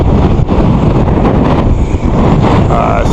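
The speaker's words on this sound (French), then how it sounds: "Vous entendez le vent?" Strong wind buffets and roars against the microphone in a continuous loud rush, with gusty surges and a faint voice underneath.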